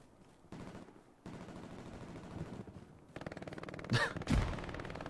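Gunfire in a Hell Let Loose tournament match: rapid automatic bursts, then two loud close shots near the end over a low battlefield rumble.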